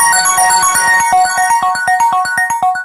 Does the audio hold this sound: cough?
no